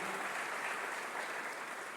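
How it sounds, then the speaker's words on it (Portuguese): A church congregation at Paz Church Santarém applauding together, a dense, steady wash of many hands clapping at moderate volume with no voices standing out. "Dê um aplauso a Jesus, a Deus Todo-Poderoso que está nesse lugar"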